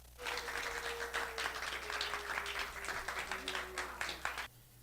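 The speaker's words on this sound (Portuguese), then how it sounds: "Uma salva de palmas para os alunos do 7º período de jornalismo." Applause from a small audience for seventh-semester journalism students at the close of a campus show, dense clapping that holds steady for about four seconds and then stops abruptly, with a faint steady hum underneath.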